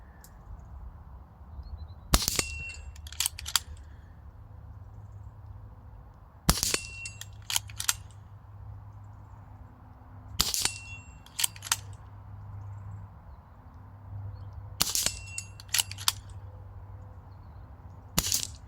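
A BRK Ranger XR PCP air rifle fires four sharp, spaced shots outdoors on a cold day at about 20 metres, each crack followed by a quick metallic ring or pellet impact, over a steady low background hum.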